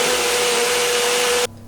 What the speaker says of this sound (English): So now we're just going to pop the lid on and blend.